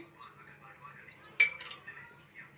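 A spoon stirs rice kheer in a pot, giving light, scattered metallic clinks and scrapes at close range, with one sharper knock partway through.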